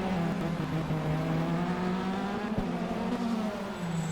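Formula 3 racing car engines in the Automobilista video game drone steadily at high revs at Adelaide, the pitch shifting slightly as the cars hold speed, with a faint whine above.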